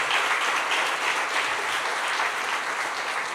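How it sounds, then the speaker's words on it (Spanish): A church congregation applauds together: dense, even clapping, loud and sustained from start to finish, with no voices rising above it. "Dale un aplauso al Señor"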